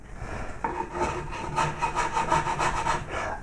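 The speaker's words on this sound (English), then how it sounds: "Then to finish off these grooves, these flutes, you could use a riffler, like so." Riffler file rasping along the flutes of a wooden koi carp's tail, a close, steady series of short back-and-forth strokes building into an even scraping rhythm.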